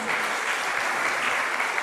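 A church congregation applauds together in a steady, dense burst of clapping that fills the space, with no voices standing out above it.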